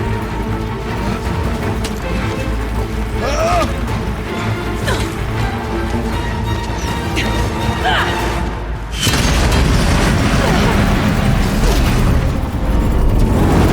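Loud, rumbling booms from explosive ammo in Horizon Zero Dawn's Frozen Wilds, a heavy continuous roar with bursts and crashes that swells sharply midway, under occasional voices.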